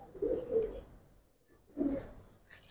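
A pigeon, one of several Giribaz and coloured birds for sale, coos twice in faint, low murmuring bursts with a pause between, with no talk.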